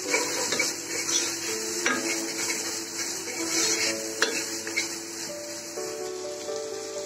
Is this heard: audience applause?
no